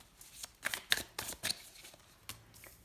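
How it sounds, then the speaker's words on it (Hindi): Tarot cards are drawn from a deck in a few quick, crisp papery flicks and slides, close and quiet, separated by short pauses. "और अब हम निकालते हैं आपके लिए कुछ टारो कार्ड्स"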